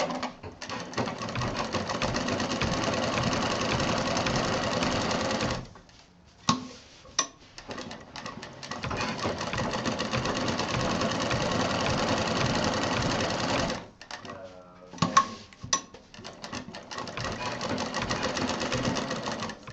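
A sewing machine stitches a line along quilted fabric for a fridge handle cover, running in long rapid bursts of rhythmic mechanical clatter with two brief pauses and soft handling clicks between runs.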